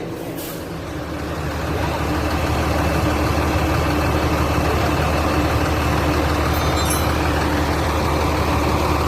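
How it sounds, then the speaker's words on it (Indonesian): The freshly serviced engine of a Paradise bus rumbles loud and close, a heavy diesel settling into a steady, unbroken idle after a brief lead-in. "ini paradis mesinnya sudah nyala lagi ini ya"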